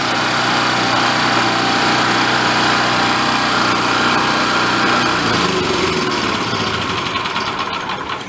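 Old free generator engine running under load, a loud, close, buzzing drone with steady vibration that wavers slightly and begins to fade near the end, no talking.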